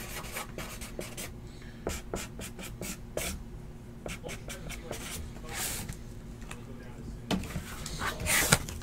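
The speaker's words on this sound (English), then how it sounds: "Let me write something down here." Pen writing by hand on paper at a table where football trading card boxes are being opened, scratchy strokes in short irregular bursts, close and fairly quiet, with small rubbing and shuffling sounds between.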